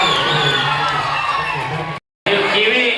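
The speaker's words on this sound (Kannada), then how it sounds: "ಎರಡೂ ತಂಡಕ್ಕೆ ನಾವೀಗ ಜೋರಾದ ಚಪ್ಪಾಳೆಯೊಂದಿಗೆ ಅವರಿಗೆ" Loud crowd cheering and whooping at a school Children's Day celebration, with children shouting and yelling in a dense, continuous roar that briefly cuts out and then resumes.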